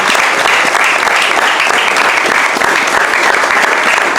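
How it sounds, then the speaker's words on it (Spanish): An audience at a book presentation in Guadalajara gives a loud, continuous round of applause for Mariana Muñiz, dense clapping that stays even throughout with no talking. "les pedimos un aplauso para Mariana Muñiz"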